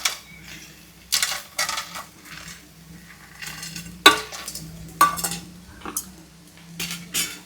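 A metal spoon scrapes and clanks against a pan as peanuts are stirred into frying onions, with repeated bursts of stirring and sharp clinks and a faint sizzle between strokes.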